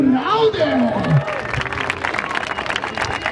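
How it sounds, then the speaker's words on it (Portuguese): Crowd at a rap battle applauding and cheering, a spread-out wash of clapping that builds under a voice speaking over it at the start. "Palmas pra esse rounder"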